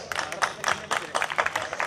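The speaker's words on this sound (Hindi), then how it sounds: "हम सब मिलकर जोरदार तालियां बजाएं" Audience applause at a school event at Geeta Mahotsav, a dense burst of clapping from a crowd lasting about two seconds, fairly loud and steady with uneven peaks.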